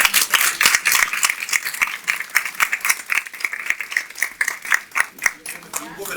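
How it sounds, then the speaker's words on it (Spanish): A small audience at a panel discussion claps in sharp, uneven bursts, with individual hand claps distinct and close, the clapping steady for several seconds. "un fuerte aplauso por favor para los"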